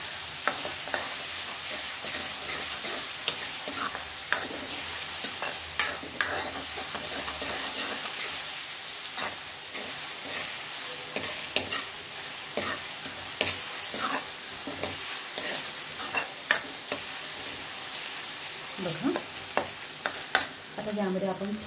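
Chopped onion sizzles steadily in a hot pan for tomato rasam, with frequent scraping stirs and small pops, close and continuous, with no one speaking.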